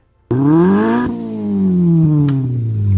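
Electronic race car engine tones from the Mattel Auto Race handheld game on LSI, a buzzy synthesized whine that rises, drops and climbs again, loud and continuous with a brief click near the end.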